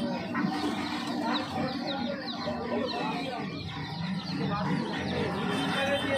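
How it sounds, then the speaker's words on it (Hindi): Many chicks and ducks chirp and cluck at once in a busy, crowded bird shop, with voices talking over the steady chatter. "ये कलर में मुर्गी के बच्चे, चूजे जिसे बोलते हैं, और ये बड़े बदख"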